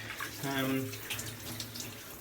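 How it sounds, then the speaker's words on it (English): Running shower water hisses steadily and broadband throughout, with a brief voice-like tone early on, heard close in a bathroom. "This shower is awful."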